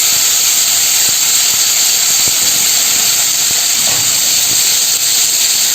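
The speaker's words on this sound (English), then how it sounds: "You hear the sizzle, the fire is on high" Chili paste and spices sizzling in a pan over a high flame, a loud, steady hiss with soft crackles running unbroken throughout.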